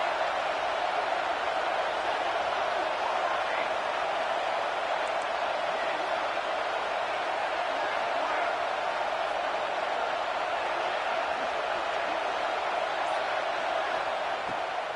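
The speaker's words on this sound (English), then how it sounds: "The Buckeye crowd alive on 3rd down." An Ohio State Buckeye football stadium crowd roars on third down against Washington, a dense, steady wall of cheering noise that holds at a constant loud level throughout.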